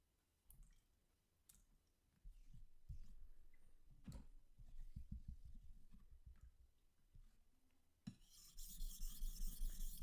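A knife is sharpened on a Suehiro whetstone, giving repeated gritty rasping strokes in an uneven rhythm with small clicks between passes, close and fairly quiet, becoming a brighter, denser hiss near the end.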